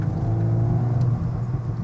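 A 2022 Volkswagen Golf R gives a steady low engine drone and road rumble while driving, heard from inside the cabin with no talking.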